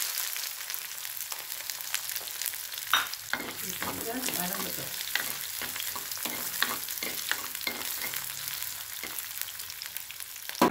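Onions frying in hot oil with popped mustard seeds and urad dal, a dense close sizzle broken by repeated scraping stirs and clatters of a spoon against the pan, with no speech.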